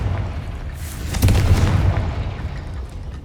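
Confringo spell explosion in the video game Hogwarts Legacy, a single loud boom with a crackling burst that fades into a rumbling tail, over background game noise.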